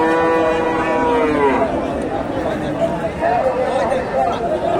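Several Friesian and crossbred cattle low and moo amid a busy crowd at the Dhap cattle market in Bogura, Bangladesh, with people chattering all around in a noisy outdoor setting.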